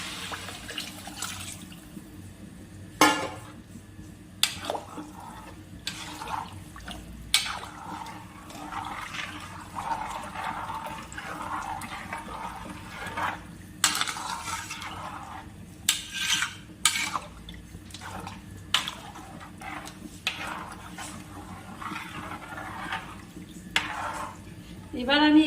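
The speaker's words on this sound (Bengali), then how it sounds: "এখন জলটা দিয়ে দেব।" Water pours steadily into a pot of toasted Gobindobhog rice for pulao, eight bowls to four of rice, a continuous splashing rush with a few sharper knocks of the vessel throughout.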